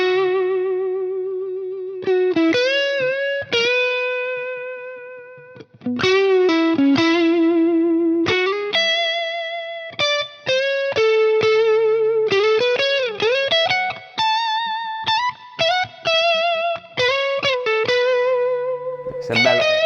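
High-end S-style electric guitar on the neck pickup playing a lead with bends and sustained notes through effects, mellow and singing, phrases separated by short pauses, no voices.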